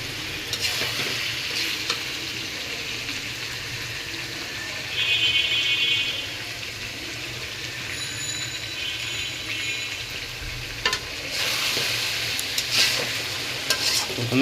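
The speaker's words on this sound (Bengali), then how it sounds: "প্রথমে পেঁয়াজ দিছি, এরপর মরিচ দিছি, এরপর রসুন বাটা, আদা বাটা, সাথে পেঁয়াজ বাটা দিয়ে মাংসটা একটু কষিয়ে নিছি।" Beef sizzles and frys in a pan with onion, chili, garlic paste and ginger paste while being stirred, a steady crackling hiss with intermittent scraping and clanks of the utensil against the pot.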